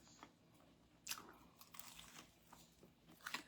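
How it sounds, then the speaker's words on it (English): Crisp bites and crunching of swim biscuits, crunchy around the edges and bottom, served with grits, sausage, bacon and scrambled eggs; several close, sharp crunches spread irregularly over a few seconds with no talking. "They crunch around the edges"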